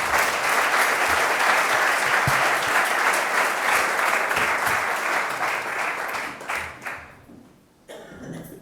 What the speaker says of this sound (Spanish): Un aplauso para Emilio Barco por su generosidad.